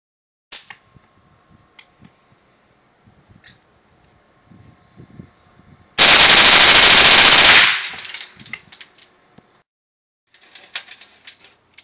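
A burst of rapid bump-fire shots from an M&P 15-22 rifle with a slide-fire stock, firing Remington Yellowjacket .22 hollow points, sounds as one loud continuous roar of about a second and a half, with quiet handling clicks before and after.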